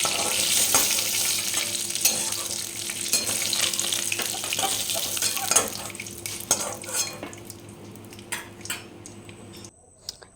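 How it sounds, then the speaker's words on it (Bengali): Pieces of snakehead fish rubbed with salt and turmeric fry in hot mustard oil, a busy crackling sizzle with spatula scrapes and clinks that gradually thins out toward the end. "শোল মাছটাকে নুন হলুদ মাখিয়ে রেখে সর্ষের তেল গরম করে ভালো করে ভেজে নিতে হবে লাল লাল করে"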